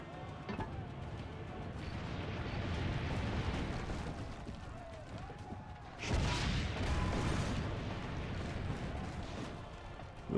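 Cannon fire in Assassin's Creed Brotherhood, with booming blasts and rumbling explosions over a dense battle din, a heavy burst near the middle, and no clear talking.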